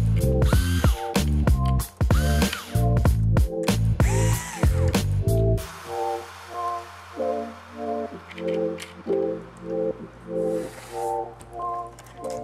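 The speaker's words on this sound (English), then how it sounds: "So you just want to take all the screws out." Screws coming out of an ASUS Chromebook Flip C214 with a screwdriver, loud close ratcheting clicks in repeated bursts, followed by softer, evenly spaced mechanical ticking with a faint hum underneath.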